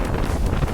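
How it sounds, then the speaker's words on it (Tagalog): Low, blustery wind buffeting the microphone, a continuous rumbling roar with no other clear sounds. "Grabe yung ano, yung hangin."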